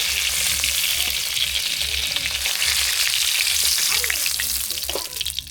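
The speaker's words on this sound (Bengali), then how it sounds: "মাছের মাথাটা ভেজে নিচ্ছি" Fish head, from a snakehead caught in a wetland, frying in oil, a loud continuous sizzle with crackling spatter and a few stirring scrapes, close-up and steady throughout.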